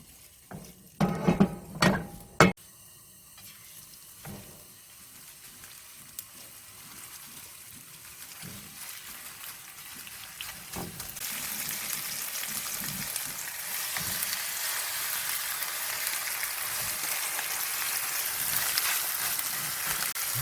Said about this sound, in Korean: 프라이팬에다가 기름을 두르고요. 이렇게 생선 굽는 식으로 한번 구워줄 거예요.